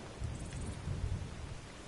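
Rainfall in the video game Skyrim, a quiet, steady hiss of falling rain with soft low rumbles like distant thunder, no voices.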